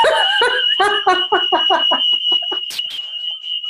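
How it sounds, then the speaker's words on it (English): A continuous high-pitched alarm tone sounds steadily in the background while a person talks over it. "can you hear my fire alarm going off?"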